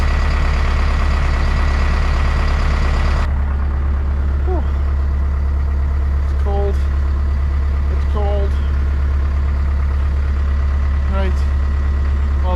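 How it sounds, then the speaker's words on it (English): A Kubota KX161 digger's engine idles steadily as it warms up, a loud constant low rumble filling the whole clip, with faint short beeps and a voice briefly over it. "Digger's warming up, I'll try and get that block fastened back down."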